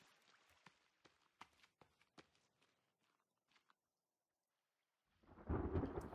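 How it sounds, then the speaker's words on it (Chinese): In the survival video game The Forest, a storm begins after a stretch of scattered footstep-like taps and near silence: a loud rumble of thunder with heavy rain surges in suddenly over the final second. "要嘛就不下雨，要嘛就一直下"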